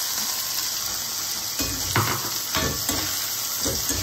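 Curry leaves, chilies and capsicum frying in a pan, a continuous sizzle with a few sharp stirring scrapes and pops in the second half, no talking.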